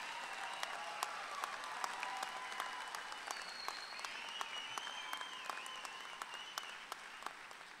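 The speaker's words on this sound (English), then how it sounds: "Let's give them another round of applause for their great accomplishment." A graduation audience at a college ceremony claps steadily in a dense, continuous wash of applause, sounding from a distance and fairly quiet, with a faint whistle rising partway through.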